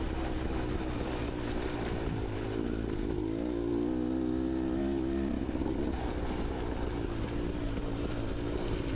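Beta X-Trainer dirt bike ridden on a trail loop near New Straitsville, its engine droning steadily with rising and falling revs and a brief higher-pitched pull mid-way, heard from the rider's position over wind noise.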